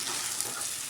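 Sago pearls being sautéed in a pan over a low gas flame, giving a steady, close sizzle with faint stirring scrapes throughout and no talking.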